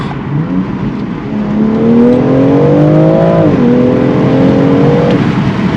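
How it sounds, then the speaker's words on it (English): The engine of a 2021 BMW X3 M Competition SUV revs up through two downshifts, giving a loud, steady roar with a rising pitch that dips between the shifts. It is heard from inside the cabin, with no talking. "let me do 2 downshifts for you guys"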